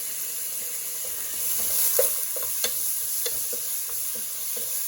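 Garlic sizzling in a hot pan for beef birria, a steady hiss that swells midway, with a few light scrapes and taps of a utensil and no talk.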